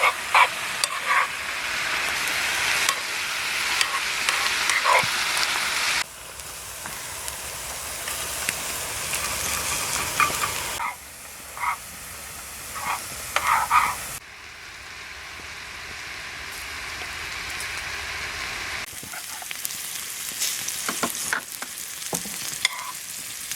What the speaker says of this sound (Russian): Овощи уже зажарились.